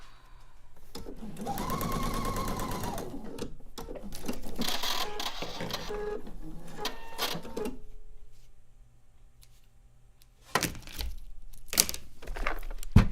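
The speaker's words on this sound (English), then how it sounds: "This is how long we can take to sew a block." Sewing machine stitching a quilt block, close and loud bursts of rapid mechanical chatter lasting a few seconds each, then pausing, followed by a few sharp clicks and handling sounds.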